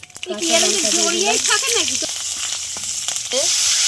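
Eggplant pieces fry in hot oil for a bacha fish curry. A steady, close hissing sizzle runs throughout while a person talks over it.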